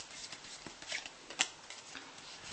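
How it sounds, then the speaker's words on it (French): A deck of playing cards shuffled during a magic trick, a quiet brief riffle with a sharper flutter of cards about midway, close and alone without talking. "le jeu est mélangé."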